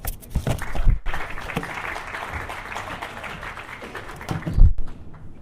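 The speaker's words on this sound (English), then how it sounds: "We'll just go ahead and give him a round of applause." At a nonpartisan primary summit panel, a modest audience claps to welcome the speaker. The applause is moderate and scattered, with a few louder thumps near the microphone, then it tapers off into quiet.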